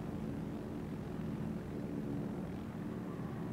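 Carrier plane squadrons from the Implacable in World of Warships fly past as a steady, low propeller drone, continuous and even throughout.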